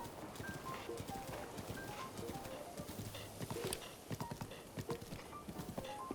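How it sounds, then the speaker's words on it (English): Horse hooves clip-clop in a steady rhythm as a horse is ridden through the rain in The Legend of Zelda: Breath of the Wild, a close patter of footfalls over soft rainfall. "ride through the rain on my Magnum horse"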